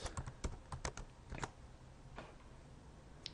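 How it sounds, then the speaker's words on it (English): Quick, light keystrokes clatter on a computer keyboard in a short irregular burst, close and fairly soft, with a pause before a final tap. "So we type NPV"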